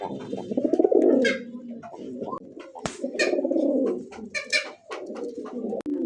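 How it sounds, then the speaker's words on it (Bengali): Satin pigeons coo close by in soft, repeated throaty rolls, with a few sharp clicks and light rustles between them. "টাকা শাটিন কবুতর তো আবার এত সুন্দর এত সুন্দর"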